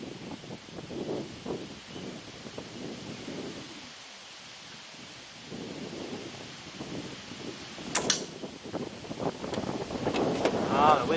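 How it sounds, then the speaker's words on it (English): Gusty wind blows outdoors, buffeting the microphone in uneven surges that build toward the end, with a few sharp knocks and some talk mixed in. "wind's really picking up now."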